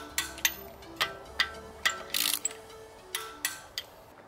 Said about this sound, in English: Using 17mm socket to tighten the wheel bolt in a star pattern with 140Nm